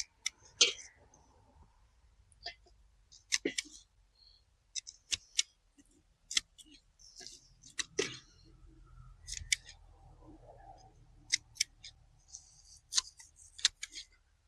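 Potato plant stalks being snipped off in a garden, a series of sharp, crisp cutting clicks at irregular intervals, close and isolated against quiet outdoor background.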